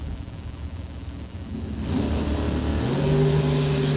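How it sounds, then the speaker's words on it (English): Drag racing cars launching down a racetrack at a drag racing event, heard as engine roar that swells sharply halfway through and rises in pitch as they accelerate away, loud and steady. "Terry Allen and Wayne Pratt headed down the racetrack"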